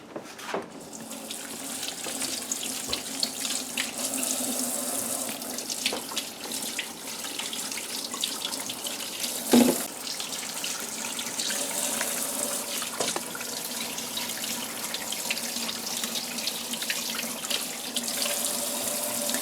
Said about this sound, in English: I'm going to start out by washing the peaches.